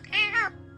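A rescue cat gives a single loud, drawn-out meow up close, with two rising and falling tones over less than a second, set against a low steady background hum.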